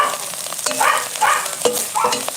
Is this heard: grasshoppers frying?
yes